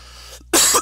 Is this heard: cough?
yes